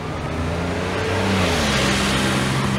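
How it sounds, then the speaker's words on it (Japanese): A car passes close by on a street outside an Onomichi ramen shop, its engine noise swelling loud and steady before continuing onward. "ああ車来た"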